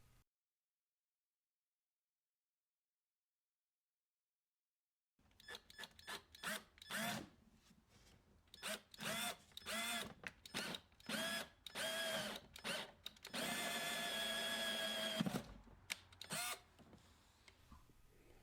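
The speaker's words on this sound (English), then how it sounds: "now I need to drill a hole in the door to accommodate this plastic piece" A power drill whirs in repeated short bursts after a few seconds of silence, drilling a hole in a 2008-2016 Audi A4/S4 car door, ending in one long sustained run, close and loud.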